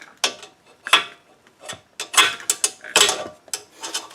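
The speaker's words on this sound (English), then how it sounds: "the brand new top nut, which is an 18 millimeter. I'll sock this down nice and tight." Socket wrench ratcheting down a new 18 mm top nut on an Audi Q5 ball joint, close and sharp, with quick irregular bursts of clicking from short back-and-forth strokes.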